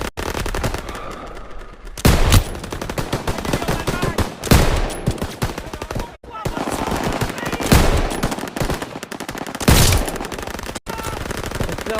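Gunfire in Call of Duty WW2, mostly rapid bursts of automatic fire layered with sharp, loud single shots spread through the clip. The shooting is close and dense, with brief pauses between volleys.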